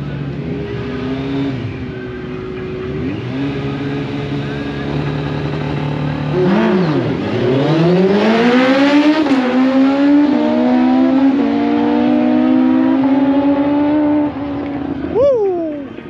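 A drag racing motorcycle at a strip in Alabama idles, then revs hard and roars off, its engine pitch climbing through rapid gear changes as it screams away loudly, followed by a brief final rev.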